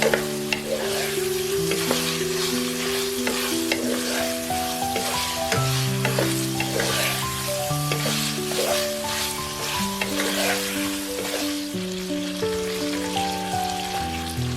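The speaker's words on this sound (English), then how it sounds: "Continue cooking until the shrimp turn pink" Shrimp fry in a pan for pancit, a bright, continuous sizzle with occasional stirring taps, heard under steady background music.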